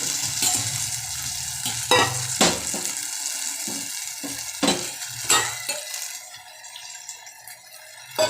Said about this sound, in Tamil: லேசாக ஒரே ஒரு செகண்ட் கொதிக்கட்டும்.